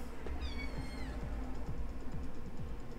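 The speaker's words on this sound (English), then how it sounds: "an extremely loud kitten at the door." A kitten meows loudly at a door, several insistent rising cries close by, with a steady low hum and faint clicks underneath and no talking.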